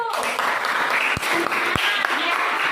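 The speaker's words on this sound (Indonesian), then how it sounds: "Tepuk tangan untuk Raju." A classroom group applauds for a student named Raju, brisk scattered clapping with a few sharp individual claps standing out and a voice talking over it.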